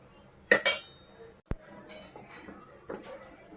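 A metal spoon clinks a few times against a pan while turmeric and coriander-cumin powder are stirred together in a home kitchen, with two sharp strikes near the start and a softer tap later over quiet room tone.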